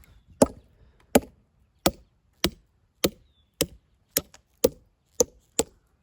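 Hammer blows drive steel feathers and wedges into a log to split it: about ten sharp, evenly spaced strikes ring out one at a time, close and loud with silence between.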